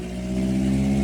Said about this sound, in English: when the loud car is going to drive by